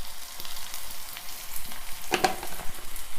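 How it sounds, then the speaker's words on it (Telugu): Onions and green chillies frying in a pan, a close, steady sizzle with occasional stirring scrapes and a brief sharper clink midway, no speech. "మంచిగా ఈ ఉల్లిపాయలు ఎర్రగా వేయించుకోవాలి, బాగా వేగాలి"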